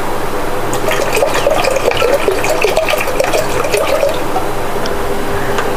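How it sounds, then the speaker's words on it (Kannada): Water poured into a mixer jar, a steady splashing, gurgling stream close by that runs continuously with bubbly trickles on top and no talking. "ನೀರು ಹಾಕಿದ್ದೇನೆ ಮಿಕ್ಸಿಗೆ, ಇದನ್ನು ಅದಕ್ಕೆ ಹಾಕುವ. ಇನ್ನು ನೀರು ಹಾಕಬೇಕು."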